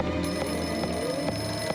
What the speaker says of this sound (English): And the phone rings again.